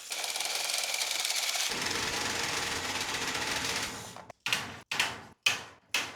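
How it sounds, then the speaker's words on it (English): A drill-mounted metal shear attachment cuts welded wire mesh of 0.063 inch wire with half-inch openings, giving a loud continuous whirring grind that later breaks into short bursts with brief pauses. "cut the wire mesh, I'll be using a drill-mounted metal shear attachment"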